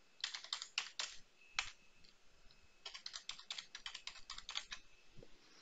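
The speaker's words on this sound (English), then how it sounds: "here I'm going to type in my credentials" Fingers type credentials on a computer keyboard in quick irregular runs of crisp, close keystrokes, with a short pause midway and no speech.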